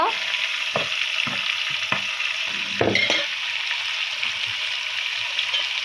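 Goat leg skin sizzles steadily in hot oil with onions, a loud continuous frying hiss broken by a few scraping stirs of a spoon in the pan.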